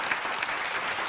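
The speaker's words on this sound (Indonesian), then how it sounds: "kita berikan tepuk tangan sekali lagi untuk Mas Ayo." Steady applause from an audience at an Indonesian stage event, a dense, continuous wash of clapping hands without a break, fairly loud and close, with no talk over it.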